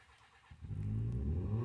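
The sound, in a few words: car driving past outside cabin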